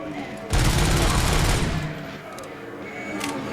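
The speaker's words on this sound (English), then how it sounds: "I got an automatic pistol now." Dense, rapid automatic pistol gunfire in a hard rock style video game bursts in loudly, rattling for over a second before tapering off into quieter game ambience with a few faint shots.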